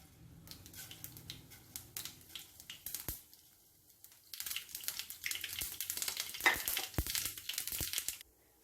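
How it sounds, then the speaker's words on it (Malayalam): Mustard seeds crackle and pop in hot sesame oil for a pickle, scattered sharp spits that grow denser and louder in the second half, fairly faint and close. "ചൂടായ എണ്ണയിലേക്ക് നമുക്ക് കടുക് ഇട്ട് കൊടുക്കാം."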